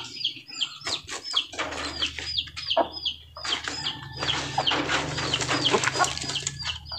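Imported chickens in a home coop cluck and call repeatedly at close range, with short bursts of clucking and rooster-like calls over a low background hum.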